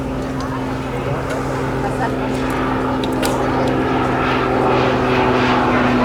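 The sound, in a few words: aircraft making a high-speed pass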